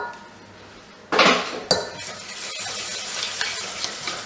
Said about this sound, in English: So I'm going to mix that together now.